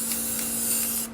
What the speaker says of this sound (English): So I take the spray paint